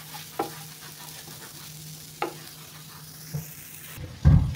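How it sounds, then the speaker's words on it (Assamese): Fish frying in a pan for a bottle gourd leaf fritter dish, a steady soft sizzle with a few sharp utensil clinks and a louder clatter at the end, no talk. "এইপিনে মই মাছটো ভাজি হৈ থাকক"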